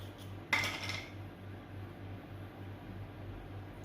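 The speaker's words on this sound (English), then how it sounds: "just take them apart and just scrape them" Cream filling is scraped out of a pulled-apart Oreo cookie with one quick, faint scrape, followed by quiet room hum.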